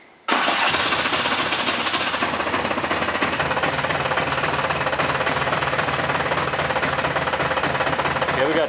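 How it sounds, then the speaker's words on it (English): A Polaris 400L 4X4 ATV engine cranks and catches, then runs on steadily as a loud, close, continuous rumble with no voices over it. "now we're going to start the engine"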